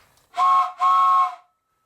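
Two breathy toots from a wooden train whistle, each about half a second long, close by and separated by a brief gap.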